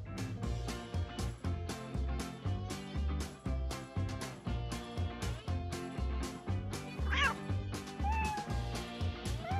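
A cat meows in a Minecraft game, a brief high cry over loud, rhythmic background music that dominates throughout.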